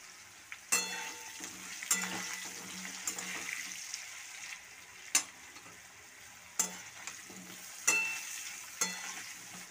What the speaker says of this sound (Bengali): আলুগুলোকে ততক্ষণ ভেজে নেব যতক্ষণ না আলুগুলোর গায়ে একটা হালকা লালচে কালার চলে আসে।